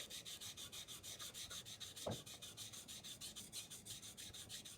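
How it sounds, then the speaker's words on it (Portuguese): Back of a steel chisel rubbed back and forth on a fine sharpening stone, an even rhythmic rasp of about twenty strokes, close and quiet, with one sharp knock midway. "vou apoiar ele por completo aqui na pedra e vou começar a fazer movimentos para frente e para trás"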